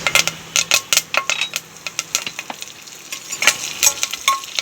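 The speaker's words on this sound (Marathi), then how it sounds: "तेल गरम झाले की जिरे व कढीपत्ता घालू" Cumin seeds and curry leaves crackle and spit in hot oil, loud close pops and bursts in an irregular rapid rhythm with a few utensil clinks.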